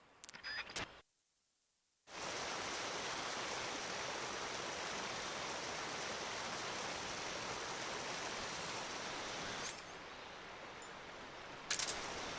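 A waterfall and stream in the video game Metal Gear Solid Delta pour as a steady, full rushing of water after a brief silent gap, with a few sharp clicks and rustles over it.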